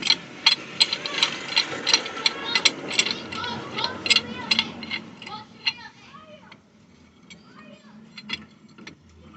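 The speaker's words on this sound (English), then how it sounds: "I use a C-clamp and the old brake" A C-clamp squeezing a car's front brake piston back in against the old brake pad gives off a run of quick clicking and ratcheting ticks that thin out and fade over the second half.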